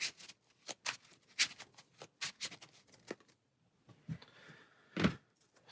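Someone shuffles a stack of board game cards by hand: a run of quick riffling bursts, close and crisp, then a pause and a final squaring of the deck, with no talk.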